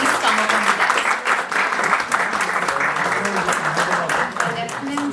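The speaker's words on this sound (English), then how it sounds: "May we have a loud round of applause for him" Loud, sustained applause from a festival audience at an inaugural session of a writers festival, dense steady clapping filling the whole stretch with some voices mixed in beneath.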